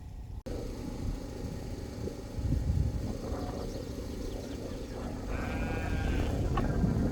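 Pregnant sheep bleat in a barn on a Russian farm during a veterinary visit, several calls rising over a steady low rumble of machinery and shuffling livestock.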